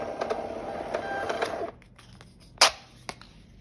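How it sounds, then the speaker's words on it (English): A desktop thermal printer prints a 4x6 shipping label: a steady whirring feed hum with regular clicks for about two seconds, then quiet, with a sharp snap near the end and a fainter click after. "I went ahead and clicked print and you'll see it come out of the printer"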